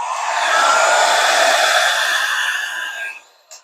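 A steady broadband whoosh of a hair dryer blowing acrylic pour paint across a black canvas, loud and continuous for about three seconds before cutting off, with a faint click at the end.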